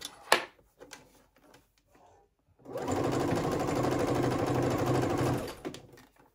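A sewing machine stitches binding onto a stretchy tank dress after a few light handling taps, running in one continuous, fast, buzzing burst of about three seconds before stopping.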